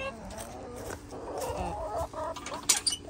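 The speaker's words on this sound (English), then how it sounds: "I still gotta go feed the chickens." Chickens cluck softly nearby in a busy farmyard, with scattered higher squawks and some background noise.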